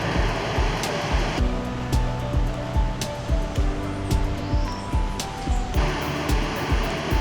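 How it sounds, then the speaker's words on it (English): Rushing water from a waterfall in the wilderness near Luquillo, Puerto Rico, a steady broadband roar that persists throughout with occasional thumps and clicks close by, no talking. "I think it's gonna take us to the top of this waterfall."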